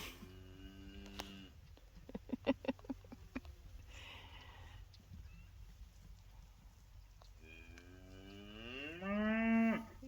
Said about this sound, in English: The noisiest moo we got.